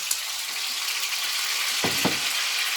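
Asparagus, onions and tomatoes sizzle steadily in a hot pan, a continuous bright hiss broken by a couple of quick scraping stirs near the end, with no talking.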